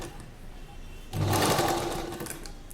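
A sewing machine stitches a colourful neck design on fabric, starting abruptly after a quiet moment and running as a steady, close, rapid whirring chatter.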